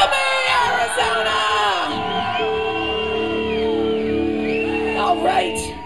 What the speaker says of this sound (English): Scream for me, Arizona!